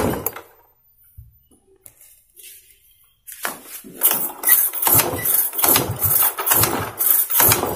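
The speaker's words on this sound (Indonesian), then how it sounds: "Oke, kita udah engkolnya nggak bisa hidup" A Yamaha Mio scooter that has lost compression is kick-started repeatedly without firing, giving a series of rhythmic, close mechanical churning strokes after a few quiet scrapes and clicks.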